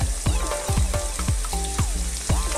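Onion and garlic hit hot olive oil in a pan for an Italian chicken and aubergine dish, giving a steady loud sizzle with repeated clattering stir strokes over about two and a half seconds.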